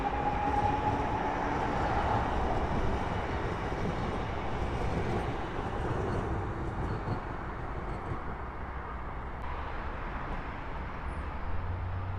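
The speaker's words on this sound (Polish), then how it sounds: "Pociąg lotniskowy spółki Koleje Mazowieckie" A Koleje Mazowieckie airport train passes through Warszawa Służewiec, a steady loud rumble of wheels and rolling stock that holds throughout and eases slightly toward the end, with no talk.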